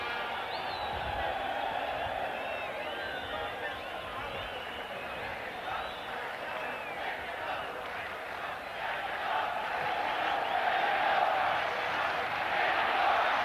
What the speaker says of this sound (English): they are always chanting for Mexico, Mexico